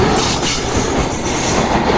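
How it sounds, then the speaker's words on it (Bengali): An intercity passenger train from Dhaka rushes past up close in the countryside, a loud continuous roar of rolling wheels and rattling carriages with no pauses. "এই ট্রেনটি ঢাকা থেকে চলে আসছে"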